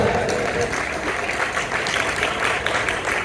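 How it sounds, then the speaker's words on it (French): A crowd claps steadily throughout, a dense, loud wash of applause that fills the room, with a voice faintly underneath. "On applaudit le Seigneur ce matin."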